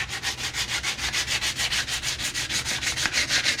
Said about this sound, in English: So I'm going to go ahead and use this 220 grit sandpaper, and then followed by this Brillo pad.